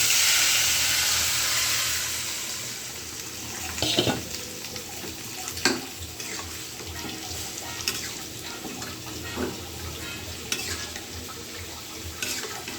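Dal poured into hot oil with fried black cumin and dried chilli bursts into a loud sizzle that settles into steady frying, with scattered stirring clicks from a utensil in the pan.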